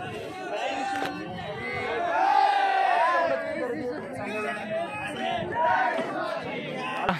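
Crowd of trekkers at Harishchandragad fort near Konkan Kada, loud overlapping chatter and shouts close by, with voices rising and falling in a lively, continuous babble.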